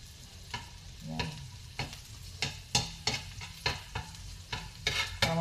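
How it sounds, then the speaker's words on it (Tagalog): Garlic browns in butter in a frying pan under a soft continuous sizzle, broken by regular sharp scraping strokes of a utensil stirring roughly twice a second. "Brown natin itong guys, yung bawang."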